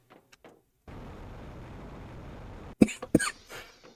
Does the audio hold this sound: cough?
yes